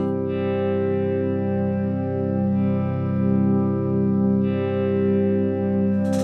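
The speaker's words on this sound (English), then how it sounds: "So now we have a drone in C." A steady, sustained synth drone holds on one low pitch, looping with a slow swell and a long, washy reverb tail.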